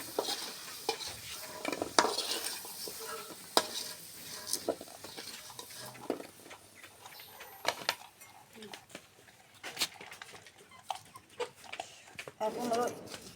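Potatoes fried until reddish are lifted from hot oil in a pan, giving a soft, steady sizzle with scattered clinks and scrapes of a utensil against the pan; a voice is faintly heard in places.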